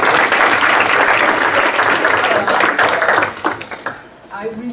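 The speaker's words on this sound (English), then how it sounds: "Another round of applause." Audience applause at a business school lecture, loud dense clapping for about three seconds that thins into scattered claps and dies away, with a voice starting to speak at the end.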